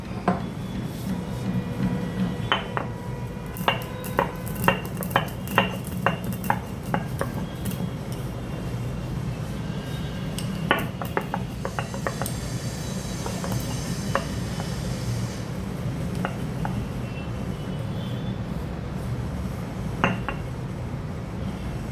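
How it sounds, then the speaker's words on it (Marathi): Half a teaspoon of black pepper crushed coarsely on a flat stone grinding slab in a home kitchen: close, irregular knocks and gritty scrapes that come in loose bursts, with no voices. "ती ही पाट्यावर ठेवून याची जाडसर अशी पूड तयार करून घेऊया."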